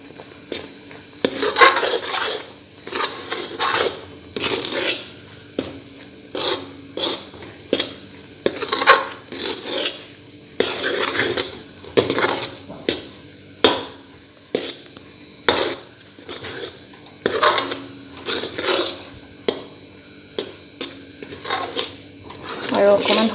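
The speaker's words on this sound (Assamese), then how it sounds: "এতিয়া ভালকৈ গোটেইখিনি মিক্স কৰি দিম।" A spoon scrapes and knocks rhythmically against a pan while a Marigold biscuit peda mixture is stirred, a steady series of close metallic strokes with a faint voice now and then.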